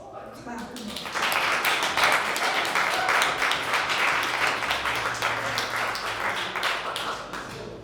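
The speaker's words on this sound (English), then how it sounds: "let's clap" An audience at a double book lunch performance claps warmly for a poet and blues harmonica and flute player, with sustained, dense applause that starts after a second and continues steadily to the end.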